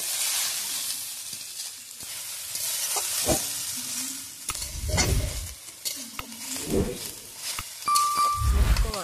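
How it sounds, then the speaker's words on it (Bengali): Gima greens and potatoes fry in a pan and are stirred now and then. A utensil scrapes and clatters in bursts over a continuous hissing sizzle, close and fairly loud. "মাঝে মাঝে একটু নেড়ে নিয়ে ঢাকা চাপিয়ে দিতে হবে"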